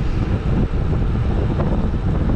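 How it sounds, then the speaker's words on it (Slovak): Cold wind blowing steadily and loudly across the microphone on a Sunday outing in the Slovak Paradise countryside, a continuous buffeting roar with no talk. "Fúka vietor zimný"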